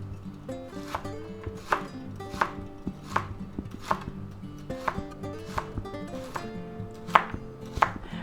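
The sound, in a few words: knife slicing mushrooms on a cutting board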